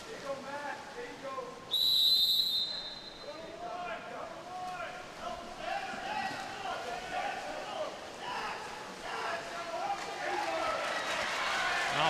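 A referee's whistle gives one sharp, loud blast at a men's high school water polo game at a pool, with splashing, crowd murmur and a commentator talking throughout.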